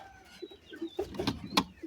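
Pigeons in a coop, kept by a keeper and some sick with pox-like trouble, give soft low coos and murmurs in scattered short bursts, bunched toward the end, close and fairly quiet, with faint rustling between calls.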